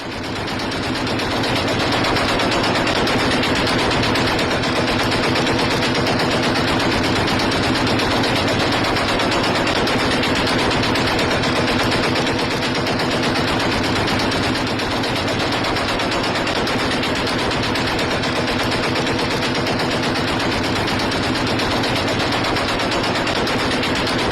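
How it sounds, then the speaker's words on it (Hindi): Heavy, sustained gunfire from combat in the Syrian civil war, a dense, unbroken roar of shots that stays loud and close for the whole stretch with no pauses. "जबरदस्त फायरिंग, जबरदस्त टकराव की ये तस्वीरें"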